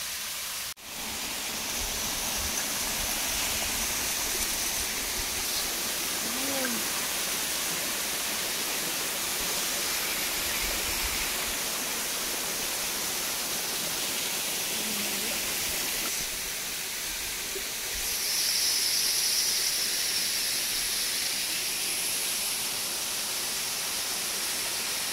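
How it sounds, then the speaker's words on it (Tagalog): A waterfall on the Tai Mo Shan hiking trail rushes as a dense, unbroken roar of white water, steady and close, swelling slightly louder toward the end. "Wow. Ang unang falls."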